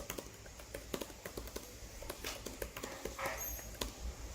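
Fast, light typing on a Razer Blade 15 laptop keyboard, keys tapped in a steady, close but soft clatter over faint background noise.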